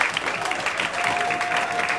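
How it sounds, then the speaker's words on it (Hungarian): Applause from a poetry-slam audience in Miskolc greeting a slam poet as he comes to the stage, a steady dense clapping that holds at an even level throughout with a faint sustained tone underneath. "Müller Bencét szeretném a színpadra egy hatalmas taps kíséretében."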